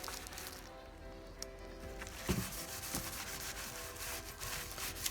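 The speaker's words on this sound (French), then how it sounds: "écoute on dégraisse la roue quoi, c'est parti" Steady rubbing and scrubbing on a wheel being degreased after sanding, before repainting; a continuous close, dry friction texture with a few brief knocks, no voices.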